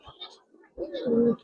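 An almond-coloured female Giribaz pigeon gives a short, close coo, a brief soft note followed by a fuller rolling call, with faint background noise.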